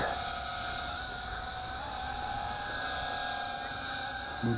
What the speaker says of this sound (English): I want to see how long this thing flies, this odd looking quadcopter